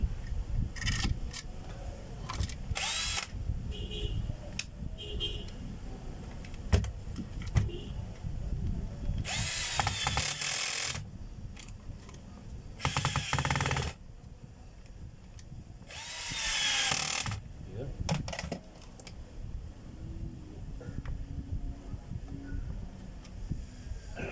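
A power drill tightens screws during an installation, heard as several loud whirring bursts of a few seconds each, separated by handling clatter and quieter gaps.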